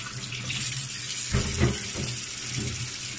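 Tap water runs steadily into a sink while chicken breast is rinsed under it, a close, continuous splash with a couple of brief louder surges as the meat shifts in the stream.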